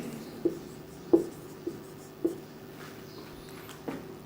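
Pen writing by hand on paper during a physics lesson, a handful of short scratchy strokes at irregular intervals, close and faint, with no talk.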